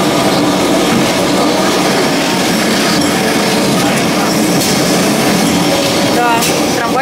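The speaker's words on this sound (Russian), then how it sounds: "Да, трамвайчик может ехать на большую скорость." Old Lisbon tram 28 riding along its track, a loud, continuous close-up rumble and rattle with clickety wheel noise and brief squeals, filling the whole clip.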